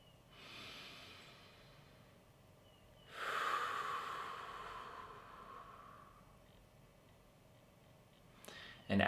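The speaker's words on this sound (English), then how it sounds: "and you just breathe." Slow relaxation breathing from one person: a soft inhale, a pause, then a longer and louder drawn-out breath fading slowly, heard close and quiet with no talking.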